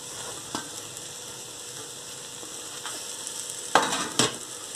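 Vegetables and leek for a vegetarian stew fry in a pot with a steady soft sizzle, broken by a few scraping stirs and two louder clatters of the spoon near the end.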